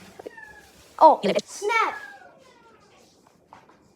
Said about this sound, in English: it's currently meowing everywhere, so let me just take you to his meowing place